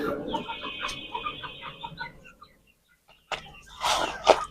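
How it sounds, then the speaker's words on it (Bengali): Native desi chickens cluck softly in short bursts while eating, over a low background, followed by a pause and then a few louder, close clucks and rustles. "এদিকে মুরগিগুলো খাচ্ছে আস্তে আস্তে খাবে"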